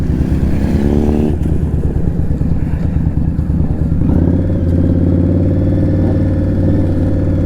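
Motorcycles arrive for a group ride at Kemble, a loud, close engine drone that shifts pitch as the bikes roll in, with a rumbling idle and some mechanical clatter throughout.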